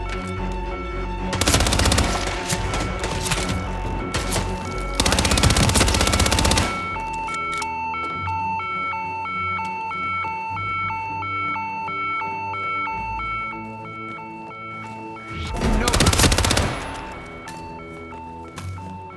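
Automatic gunfire erupts in the Hitman 2 video game, three loud bursts of rapid shots separated by stretches of tense electronic music with a repeating tonal pattern.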